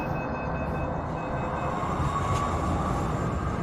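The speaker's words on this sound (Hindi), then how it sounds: "इस बीच मेट्रो चल दी" Metro train starts moving, a dense steady rumble of wheels and motor hum filling the carriage at constant loudness with no voices.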